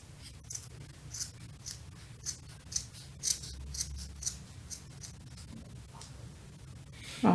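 Scissors snip through ribbon while a bow is being made, a series of short crisp cuts spaced about half a second apart, close and quiet, ending with a louder rustle.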